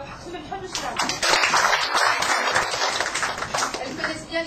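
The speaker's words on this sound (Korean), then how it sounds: "Donc, on va les applaudir parce que c'est gentil de venir." Seminar audience clapping for two teachers who have come up on stage, a burst of hand claps that swells after the first second and holds fairly close, with a voice briefly heard over it.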